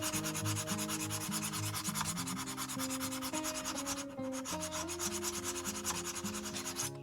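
A chisel is sharpened on a diamond stone with steady, continuous rubbing strokes that run unbroken and close by, while sustained tonal sounds carry on underneath.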